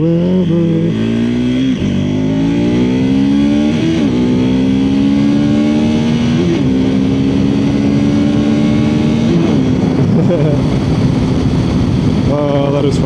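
Engine revving hard, its pitch climbing and holding high through repeated loud pulls, with brief dips between gear changes, close and continuous.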